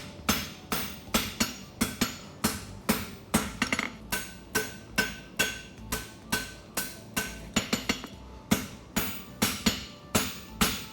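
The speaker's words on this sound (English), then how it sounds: "Now we can start forging up our heel caulk a little bit more." A farrier's hammer strikes a hot horseshoe on an anvil while forging the heel caulk, sharp ringing blows landing close and loud in a steady rhythm of about two per second, with brief pauses.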